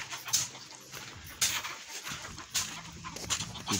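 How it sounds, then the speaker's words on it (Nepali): A dog in a village gives short whimpering, panting sounds, close and fairly faint, coming in a few brief bursts amid rustling background noise. "कुकुर आएछ"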